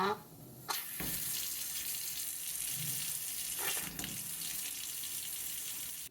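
A newly installed kitchen faucet is turned on and water pours steadily into the sink, starting after a brief clunk and running loud and continuous with small handling knocks partway through.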